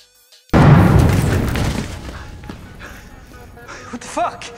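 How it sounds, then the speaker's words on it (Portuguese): A single loud gunshot boom in the game Resident Evil bursts out, then decays into a rumbling tail, followed by quieter faint sounds and brief tones near the end. "o Leon acorda com o barulho do tiro"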